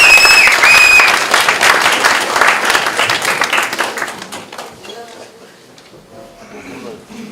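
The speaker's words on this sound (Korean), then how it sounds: "큰 박수로 따뜻하게 맞아주시기 바랍니다" A university lecture audience gives loud applause as the president is welcomed to the stage; the clapping is strong at first, then tapers off and thins out toward the end.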